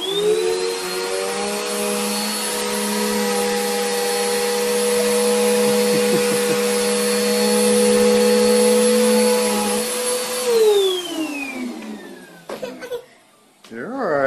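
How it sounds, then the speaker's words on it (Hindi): A vacuum cleaner runs steadily on a household carpet, a loud sustained whine with a stable hum for about ten seconds before winding down, followed by brief noises and a voice near the end. "इस दौरान इसके वालिद ने कारपेट साफ करने के लिए वैक्यूम क्लीनर चला दिया, जिसकी आवाज सुनकर वो खौफजदा हो जाती है"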